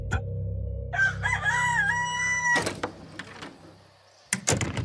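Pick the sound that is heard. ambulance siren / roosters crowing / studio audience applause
roosters crowing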